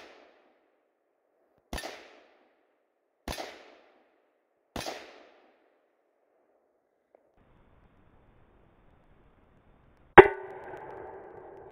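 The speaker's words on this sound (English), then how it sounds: "Next, we'll be taking four shots with the AR." An AR rifle fires at a bare steel plate: three sharp, evenly spaced cracks, then a pause and a louder shot that rings with a metallic clang and decays, heard alone.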